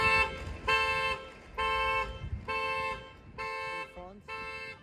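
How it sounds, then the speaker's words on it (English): A Tesla's car alarm under test sounds six loud, evenly spaced electronic bursts of steady tone, each about half a second long with short gaps between, over faint outdoor background noise. "we just tested the alarm of my Tesla"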